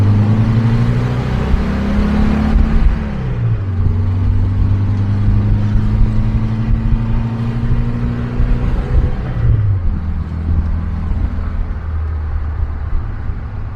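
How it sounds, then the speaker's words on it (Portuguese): A 1972 Kadron buggy engine runs after an ignition tune-up, its loud, close mid-pitched rumble rising and falling through several revs before settling back to idle. "Pelo som do motor"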